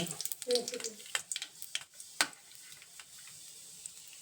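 Green chillies hit hot oil in a tempering for avalakki (poha), giving a quiet crackling sizzle with scattered pops and stirring scrapes. A voice speaks briefly near the start.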